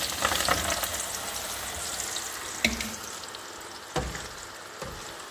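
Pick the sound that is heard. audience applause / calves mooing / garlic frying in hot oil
garlic frying in hot oil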